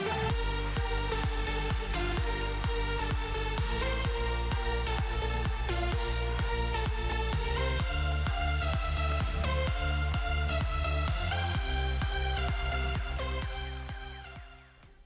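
A remake of a remix plays as dense electronic dance music, with a steady thumping kick, layered synth chords and a bright lead, loud and continuous before fading at the end.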